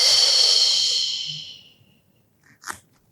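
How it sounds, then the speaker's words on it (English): A long breath drawn in during a stretching exercise, a loud hissing inhale that fades away over about a second and a half, then one brief soft sniff. "In breath."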